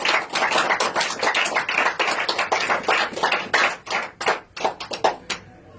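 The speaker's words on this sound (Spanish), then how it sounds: "¿Cuánto le dan un fuerte aplauso al Señor?" A church congregation bursts into loud applause in response to a call to praise God, dense continuous clapping that thins into scattered, uneven claps before fading out.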